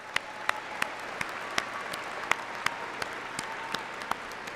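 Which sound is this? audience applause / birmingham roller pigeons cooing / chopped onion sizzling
audience applause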